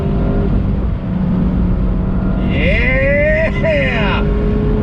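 A 2020 Mazda MX-5 Miata Club engine revs up sharply in a quick blip during a heel-toe downshift to third, rising over steady road and wind noise, with someone talking over it.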